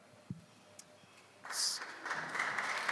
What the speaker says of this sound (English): You know that I love the applause, so keep it coming.